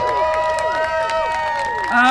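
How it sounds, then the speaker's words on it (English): A crowd at a farmers' protest in Toronto for Universal Ostrich Farms claps and cheers for a speaker. Steady applause sits under whoops and raised voices, swelling louder near the end. "Give Ed Casey a big round of applause."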